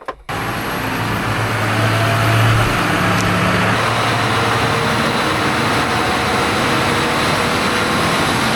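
A John Deere 8R tractor engine runs steadily at 1,500 RPM to warm its oil, giving a loud, continuous, even diesel drone that starts abruptly and holds unchanged.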